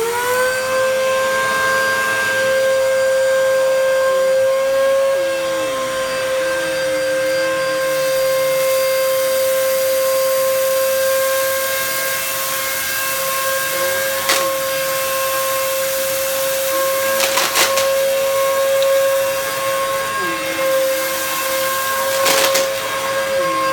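A vacuum cleaner runs steadily for the whole stretch, one of several machines being tested with repeated thorough passes. It gives a loud, continuous whine with slight pitch wobbles as it is pushed back and forth, and there is no talking.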